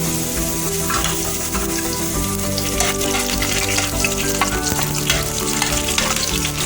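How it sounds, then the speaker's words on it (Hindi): Loud, continuous sizzling of garlic frying in hot oil for a lentil dish, crackling steadily with occasional stirring clatter, close by and without talk. "जैसे ऑयल गर्म होगा दोस्तों आपने इसमें लहसुन अदरक डाल देना है"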